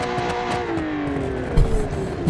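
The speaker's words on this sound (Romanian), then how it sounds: "ia-ți de Bugatti-ul ăsta, vai mamă, cum sună" A Bugatti in BeamNG.Drive howls loudly with its engine pitch sliding down steadily, then a thump and rising roar near the end, tires and impact noise blending in; no one talks over it.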